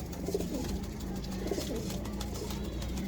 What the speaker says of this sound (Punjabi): ਇਹ ਕਬੂਤਰ ਆ ਭਾਜੀ